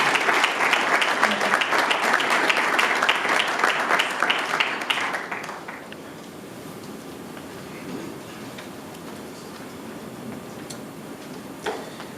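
An audience at a community event applauds to welcome a speaker, with rhythmic, fairly close clapping for about five seconds that then stops, leaving quiet room noise and a faint stray sound near the end.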